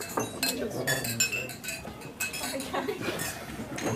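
Glasses and cutlery clink several times in a busy room during a toast at a speech event, light chinks scattered through steady crowd murmur and chatter.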